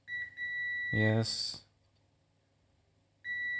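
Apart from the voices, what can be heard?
multimeter continuity test beeps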